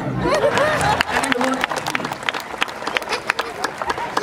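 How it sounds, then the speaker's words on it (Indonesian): Audience clapping at a Balinese comedy show, a scattered run of sharp claps and crowd noise over music, with talk mixed in, close and fairly loud. "Tepuk tangan"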